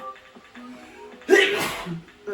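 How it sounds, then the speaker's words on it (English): A single loud, explosive sneeze bursts out midway after a moment of quiet shuffling. "That's a hell of a sneeze."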